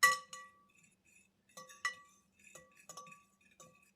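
Whisk clinking against a bowl while stirring baking powder, baking soda and cinnamon for keto scones, a handful of sharp, bright taps in short irregular bursts with quiet gaps between.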